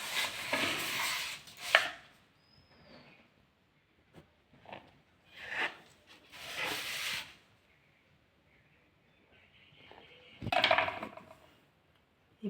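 A knife cuts through rolled flour dough for phul pitha on a board, giving a few separate scraping chops and taps spaced apart, with quiet gaps and light handling noise between, close and with no talk.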